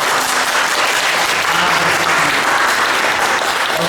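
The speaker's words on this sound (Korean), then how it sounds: "박수." Loud, dense applause fills a Korean church's children's Sunday worship service, a congregation clapping steadily and evenly throughout with no talking over it.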